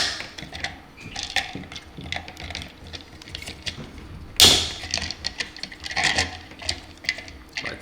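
Plastic lens cover notches on an LED light fixture being popped off by hand, giving a series of small clicks and taps close up, with one sharper snap standing out midway.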